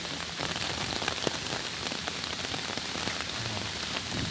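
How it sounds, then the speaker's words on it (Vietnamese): Dense, steady downpour during a typhoon hisses and patters without pause across a rural crossroads near a rubber plantation, loud and close with no voices. "Mưa rất to, bão này, bão số 9 đấy các bạn nhé"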